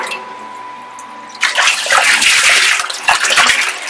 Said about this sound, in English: So pump is working, it's on, and you can see how the water is flowing.